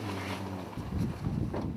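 A skate-fishing boat heads out to sea off Korea in strong wind, its low engine drone steady at first, then giving way to gusty, rushing wind buffeting the microphone.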